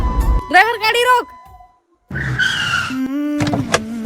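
A car skids to a stop with a squealing tire screech, loud and close. The sound breaks off into a short silence, then a second burst of squeal and engine noise follows.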